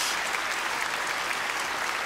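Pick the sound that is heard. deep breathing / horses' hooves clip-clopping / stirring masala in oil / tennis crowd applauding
tennis crowd applauding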